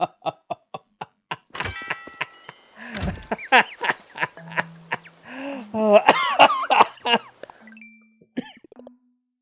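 Coughing fits mixed with bursts of hysterical laughter, close and loud, in a rapid string of sharp hacks that swell into a longer run before trailing off with a few quieter gasps.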